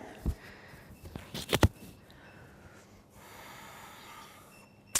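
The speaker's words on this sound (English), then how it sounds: "Just taking a few breaths here." Breathing during a yoga session, with a few close, sharp nasal inhales and exhales clustered near the start, then a quieter stretch of soft airflow and room noise.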